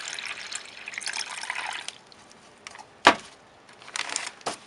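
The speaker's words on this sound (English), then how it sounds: "And I'll put in water," Water pouring into a plastic zipper bag of vase crystals, a close, steady trickling splash that fades out, followed by a sharp knock and a few later rustles.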